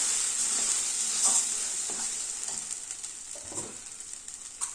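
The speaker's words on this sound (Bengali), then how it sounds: "মাছটাকে খুব ভালো করে কষাবো ভালো করে এটা ভাজা ভাজা করতে হবে" Spiced fish fries in a pan with a steady bright sizzle while being stirred, giving soft repeated scraping strokes, close and alone without speech.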